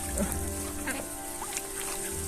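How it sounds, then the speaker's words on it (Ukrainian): Ducks quack in short bursts against a steady background hum, with faint voices in the distance. "Дуже красиві качки."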